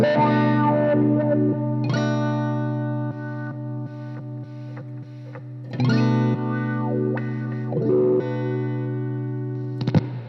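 Electric guitar through a wah-wah pedal, held chords and single notes swept so the tone opens and closes, with pauses and restrikes, played alone and close with effects and a slightly distorted edge.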